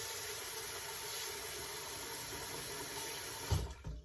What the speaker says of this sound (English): Now I'm going to put me some water in here.